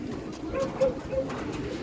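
Soft, low racing pigeon coos repeat a few times over a steady background murmur, fairly close.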